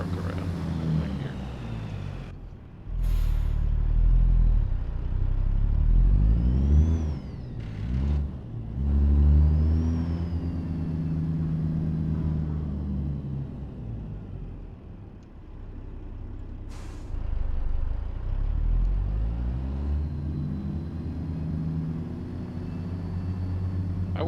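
A heavy truck engine in American Truck Simulator rumbles and revs steadily through a slow turnaround, with swelling acceleration and a couple of sharp air-brake-like hisses, continuous and close throughout.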